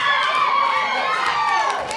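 A beach-party crowd cheers and shouts in a sustained, loud wash of many voices, steady for the full two seconds with no pauses.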